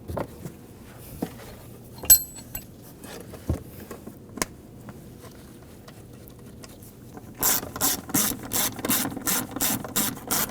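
Ratchet clicks in quick rhythmic bursts near the end as nuts are tightened on the fuel pump cover of a 2007-2013 BMW 328i 3.0L L6, after a stretch of sparse faint knocks and handling noises.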